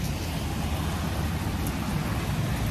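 Rain falls steadily and heavily on a street in the Netherlands near a train station, a dense continuous hiss with no pauses.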